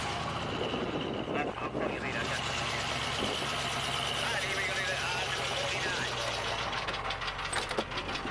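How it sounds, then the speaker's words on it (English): A truck engine idles with a steady, knocking rumble at a car auction, close by, while people talk over it. "Sounds like a real truck."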